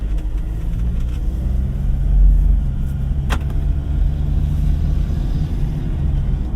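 A 2018 Ford Ranger Wildtrak 4x2 pickup cruises in its normal drive setting, with a steady low engine and road rumble heard from inside the cab. A brief swell comes partway through, and nobody speaks.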